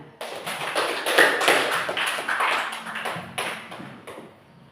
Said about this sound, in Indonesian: tepuk tangan dulu buat teman kalian